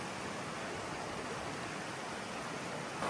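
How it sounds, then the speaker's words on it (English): West branch of the Piscataquis River flowing, a steady broadband rush of moving water close by, continuous and unbroken with no talk. "this is the west branch of the Piscataquis River"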